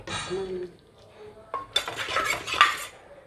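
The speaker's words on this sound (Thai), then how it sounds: "ล้างครกลงไปด้วยเพื่อความอร่อย" Liquid and utensil clatter as a stone mortar of curry paste is rinsed into a simmering pot of Thai sour curry with tamarind, with clinks and scraping building to a busy wash of pouring and stirring.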